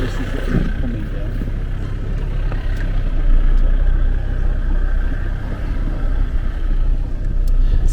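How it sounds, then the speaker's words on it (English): An old Land Rover with soft tyres creeps slowly down a rocky track on the Canning Stock Route, its engine a low steady rumble with faint knocks and rattles throughout, close and continuous. "So I'm just coming down a bit of a rocky thing here."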